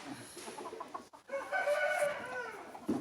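A hen clucks and makes a drawn-out squawking call while laying an egg, close by and moderately loud, with no voices.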